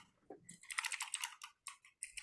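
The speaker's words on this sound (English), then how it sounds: "I think I see some people typing" Quiet, close clicking of computer keys as people type during an online roundtable, with short bursts of rapid keystrokes separated by brief pauses.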